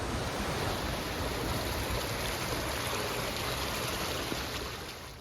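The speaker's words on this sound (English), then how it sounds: "Welcome to the Bayeux water wheel." Water rushing steadily past the Bayeux water wheel in Normandy, a dense, even broadband wash like a stream or weir that stays close and constant, easing off slightly at the end, with no voices.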